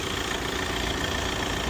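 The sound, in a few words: Audi A4 2.0 TDI diesel engine idling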